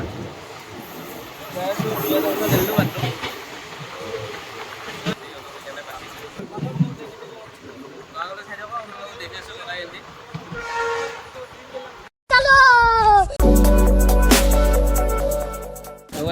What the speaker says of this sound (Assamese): ট্ৰেইনত উঠি আমি নলবাৰী ষ্টেচনত গ'লোঁ। বাই চাব পাৰে, আমি ট্ৰেইনত আছোঁ এতিয়া বৰ্তমান